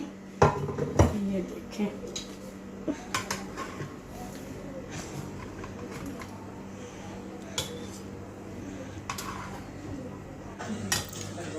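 A cooked Arabic eggplant and meat dish is served onto a plate, with metal utensils clinking and scraping against cookware in scattered sharp taps over a quiet kitchen background, and someone speaks briefly.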